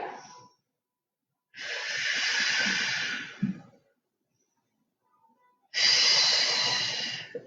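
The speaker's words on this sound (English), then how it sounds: "just take 2 deep breaths here" Two long, deep breaths taken during a gentle mat Pilates stretch, each a loud close airy inhale or exhale with a quiet pause between, heard without any talking.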